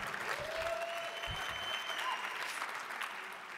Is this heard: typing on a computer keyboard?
no